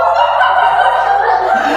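A group of schoolchildren in a classroom imitate a chicken together, a loud sustained chorus of voices mimicking clucking and crowing, tonal and wavering for nearly two seconds.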